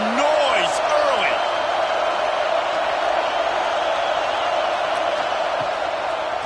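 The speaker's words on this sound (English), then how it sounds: "This crowd bringing the energy and noise early." A football stadium crowd roars as a steady, broad wash of noise throughout, with a few whistles and shouts rising above it.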